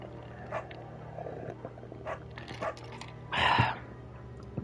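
A beagle named Bucket in the game Firewatch gives several short, quiet barks spaced across the moment, ending in a louder, longer bark or howl over a low steady background hum.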